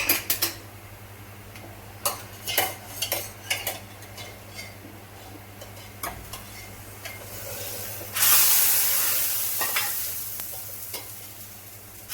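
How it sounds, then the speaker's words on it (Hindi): Onions fry in a hot pan for a tadka, sizzling and hissing while a utensil scrapes and stirs in irregular clacks, with a louder burst of sizzling partway through. "अब मैं प्याज फ्राई कर रही हूँ तड़का लगाने के लिए।"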